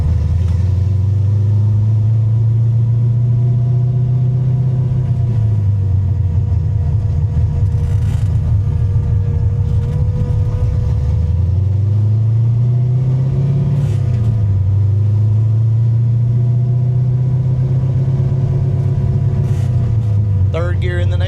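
A manual-transmission car engine pulls in second gear, a steady loud low drone that rises and falls as revs climb and drop through the run, with faint rattles near the end.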